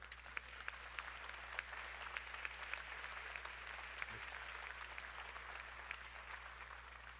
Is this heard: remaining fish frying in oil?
no